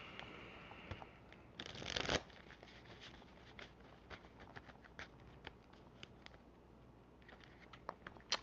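A deck of tarot cards shuffled by hand, close and quiet, with a quick riffle burst followed by soft, repeated card-on-card ticks and patters.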